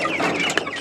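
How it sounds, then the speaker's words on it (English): Chickens cluck and murmur softly in a cage, a brief close burst of overlapping fowl calls. "We will be moving some of this chicken from here."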